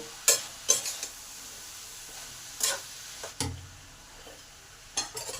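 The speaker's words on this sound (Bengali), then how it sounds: "এবার সমস্ত মশলা এই সবজির সঙ্গে ভালো করে নেড়ে নেব।" Cauliflower stalk vegetables are stirred with ground coriander and chili powder in a pan for chorchori, producing a few scraping stirs over a faint, steady sizzle of frying.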